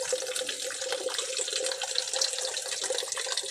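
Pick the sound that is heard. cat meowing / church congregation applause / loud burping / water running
water running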